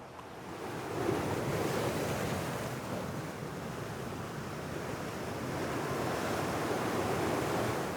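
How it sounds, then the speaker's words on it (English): Ocean waves pound the rocks along the Malecón seafront in Baracoa, Cuba, a continuous broad roar of surf with rising swells and wind noise, no voices. "I watched the ocean endlessly pummeling the rocks."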